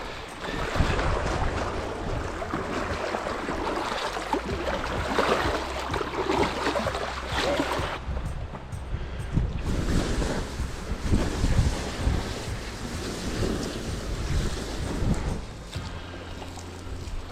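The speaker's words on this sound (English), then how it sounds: "Big waves today." Rough lake water slaps against a canoe on a Temagami trip, with steady wave wash and heavy wind buffeting close to the microphone throughout, no talking.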